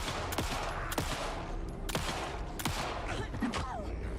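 Gunfire in the horror game Alan Wake 2 cracks out in sharp, spaced shots, roughly one every half second to second, over a dense background rumble.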